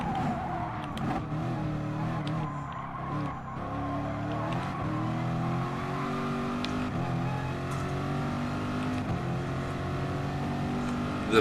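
Corvette race car in the GT Sport racing game, its engine droning and revving continuously with shifting pitch and tire noise, loud and close, with no talk over it.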